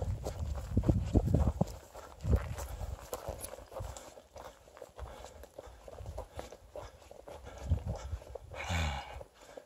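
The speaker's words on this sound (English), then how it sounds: "My horse trying to scare off the dog." A horse's hooves clip-clop and scuff near a creek-fed water trough while a dog moves about close by, uneven thuds and footsteps at moderate volume with no talk.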